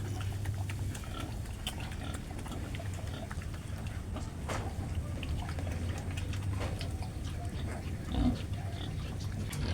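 Pet pigs in a pen grunt softly and intermittently against a low steady background hum, with one slightly louder snort near the end and no talk.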